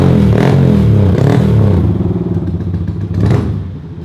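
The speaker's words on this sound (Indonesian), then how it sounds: "Bapak manajer naik motor." Motorcycle engine revving hard up close, two sharp throttle blips then settling into a loud rumbling idle before another rev, with clattering mechanical noise.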